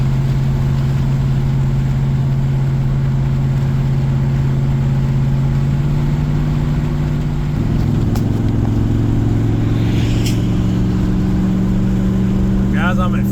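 Car tires rolling on pavement at about 50 mph, a newer quieter set replacing mud-grip tires, giving a steady low drone with engine hum throughout and a brief shift in pitch midway.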